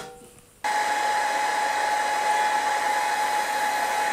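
A 20W diode laser module engraving stainless steel gives off a steady, loud whirring hiss that starts abruptly after a short quiet moment and holds constant to the end, most likely its cooling fan.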